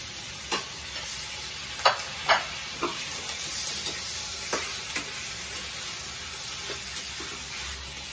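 Chicken pieces for pineapple chicken adobo frying in a hot pan, a steady close sizzle broken by several sharp scraping stirs and spatters.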